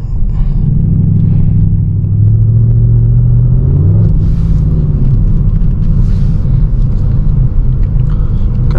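Second-generation Dodge Charger R/T AWD driven at night in winter, engine rumbling loud and close from inside the car, with a steady low drone and a shift in pitch partway through.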